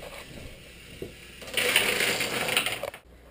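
A toy Thomas Tank Engine train whirs along its track and knocks into dominoes in a Rube Goldberg setup, a soft motor hum rising into a louder clattering, rattling rush before stopping.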